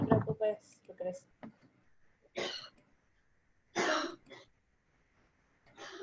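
A woman clears her throat and coughs in several separate harsh bursts with pauses between them, close to the microphone, with some brief speech at the start.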